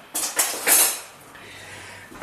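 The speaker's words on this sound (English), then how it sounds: "let's get a spoon" Metal spoon clinking against dishes in a home kitchen, a few bright close clinks and scrapes in quick succession, followed by a quieter lingering ring and faint low hum.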